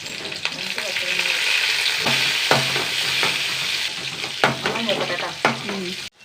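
Mustard seeds, shallots and byadagi chillies tempering in hot oil: a dense, loud sizzle with crackling pops and several sharp stirring clinks throughout, no voices.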